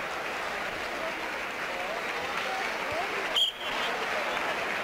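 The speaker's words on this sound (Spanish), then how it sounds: "los aplausos para estos bravos luchadores" A crowd at the inauguration of a lucha canaria wrestling ring applauds the wrestlers, a steady wash of clapping held at moderate loudness with faint voices beneath and a brief sharp whistle-like burst partway through.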